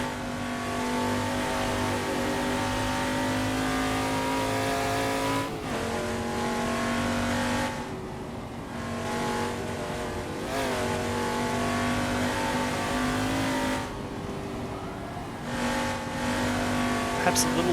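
A Ford XA Falcon racing around Bathurst in a racing game, its engine droning loudly and continuously with shifting pitch as it accelerates, brakes and downshifts through corners.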